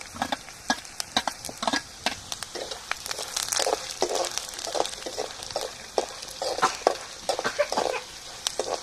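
Spice tempering crackles and sizzles in a hot pan for village-style pulihora, with close, irregular pops and bursts of frying over a steady hiss and no talk.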